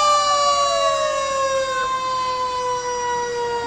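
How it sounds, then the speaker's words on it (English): Siren on Pioneer Fire Department engine 71 wails steadily at a Fourth of July parade, a loud, continuous falling tone with layered harmonics over crowd and street noise. "you can't miss the sirens, that's for sure"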